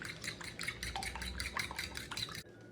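A spoon clinks rhythmically against a bowl while savoury French toast batter of milk, red chili powder and salt is whisked, giving a quick, steady series of bright metallic taps up close before stopping abruptly.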